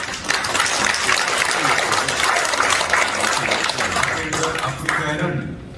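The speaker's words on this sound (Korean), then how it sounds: "박수 바랍니다." An audience applauds at a World Korean Foundation 10th anniversary forum, with dense sustained clapping filling the hall and a voice speaking over it before the applause fades.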